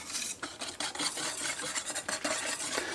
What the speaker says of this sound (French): On vient mélanger le tout.